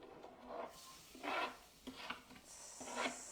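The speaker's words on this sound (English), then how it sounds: "Sizzling nicely." Garlic cooking in a pan until golden brown, heard as a soft, faint sizzle that swells and fades in several short bursts.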